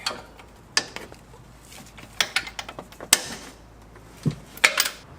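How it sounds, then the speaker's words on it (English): A long ratchet with a 17mm socket breaks brake caliper bolts loose on a Lexus front suspension, giving sparse, sharp clicks and creaks at irregular intervals, close up in a quiet garage. "17mm here with a long ratchet. Now we're going to break these bolts free."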